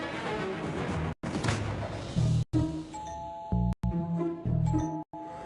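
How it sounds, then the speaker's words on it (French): A wall-mounted doorbell in a restaurant kitchen rings its two-tone ding-dong chime several times, loud and clear, in separate bursts over busy kitchen clatter. "C'est quoi cette foutue sonnette qu'on entend toutes les 2 minutes?"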